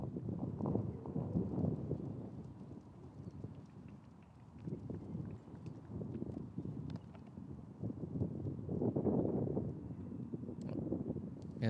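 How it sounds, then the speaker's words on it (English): Gusting wind buffets the microphone on a disc golf course during a tournament round, a steady low rumble that swells and eases over several seconds, with no talk. "to an elevated basket with a bunch of wind, you can understand Shasta's frustration"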